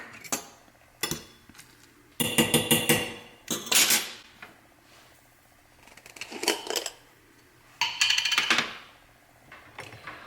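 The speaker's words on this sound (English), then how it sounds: "now I'm just going to add the 1/3 of a cup of rolled oats" Rolled oats, a third of a cup, pour and clatter into a pan in several short, crisp bursts separated by quiet gaps, close and fairly loud.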